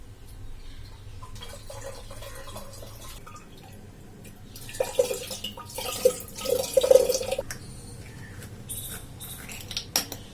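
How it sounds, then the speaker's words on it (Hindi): Water runs from a tap into water bottles, with a low steady stream at first, then louder splashing, clinks and gurgles in the middle before it settles again. "पहले इन दोनों को भर के फ्रिज में रखा जाए"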